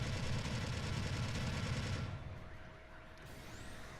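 A minigun in the video game Gundam Battle Operation 2 fires a continuous high-rate stream of shots for about two seconds, then stops, leaving faint mechanical hum and background game noise.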